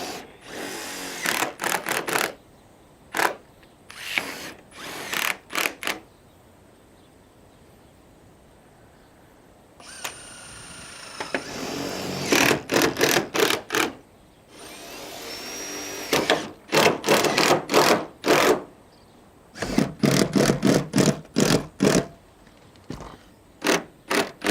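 A power drill drives screws through plastic roofing sheet in repeated loud whirring bursts, broken by quiet gaps between screws.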